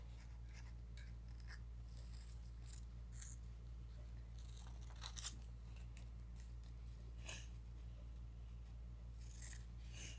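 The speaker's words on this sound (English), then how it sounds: "You need to get your scissors and then cut it like this." Scissors cutting origami paper: quiet, close snips and rustling cuts recurring in an irregular rhythm over a steady low hum, no talking.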